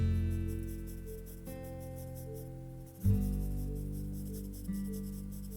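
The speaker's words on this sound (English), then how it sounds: "I'm first drawing a rectangle around the belt. I'm drawing it very lightly." A pencil sketching lightly on paper, a soft, steady scratching close by over a constant tonal hum in the background.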